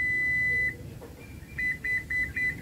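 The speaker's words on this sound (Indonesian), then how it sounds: "kalian tekan dan tahan sampai bunyi bip 2 kali" An electronic beeper on a Toyota Innova Zenix's power tailgate sounds one long tone, pauses, then gives four short beeps in a quick, even rhythm over a low background hum.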